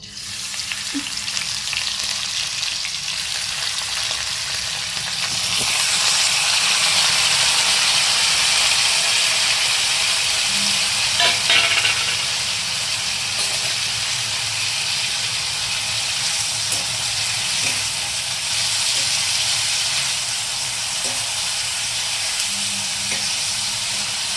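Small pieces of ridge gourd fry in a pan for a chutney, giving a continuous hissing sizzle that swells after the first few seconds and holds steady, with faint scattered clinks.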